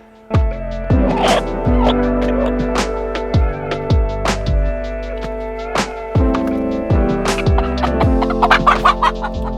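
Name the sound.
chickens clucking in a chicken coop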